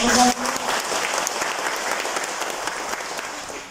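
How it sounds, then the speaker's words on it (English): At a Catholic feast-day Mass in a church in Bahrain, the congregation gives the priest a sustained round of applause, a dense even patter of many hands after a brief opening voice, moderately loud and continuous. "And Father deserves a big round of applause."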